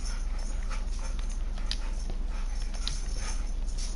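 A dog whimpers and whines in short, repeated cries over steady background noise, fairly close, with no talking.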